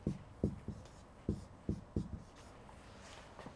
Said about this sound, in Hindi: तो इसको मैं ऐसे लिख सकता हूँ